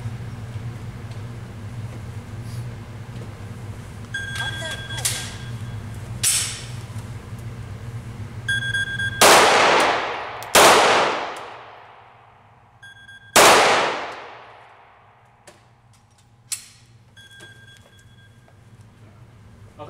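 Gunshots are fired at an outdoor shooting target. Three loud, sharp reports, two close together and a third a few seconds later, each ring out with a long fading echo over a steady low hum and faint clinks.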